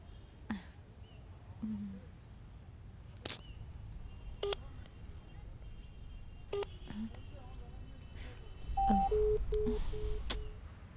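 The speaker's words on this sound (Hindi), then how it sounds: "अभी फोन करती हूँ उसको।" A phone number is dialed, with a series of short, distinct keypad tones spread irregularly across a quiet indoor scene, then a few steadier beeps near the end.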